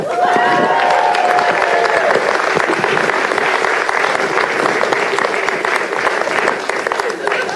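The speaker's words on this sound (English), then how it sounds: "Give a big round of applause for the last prize, Mr. Nigel Cook." A loud, dense round of applause from a comedy show crowd, with some cheering, continues steadily throughout, and a voice is heard calling out near the start.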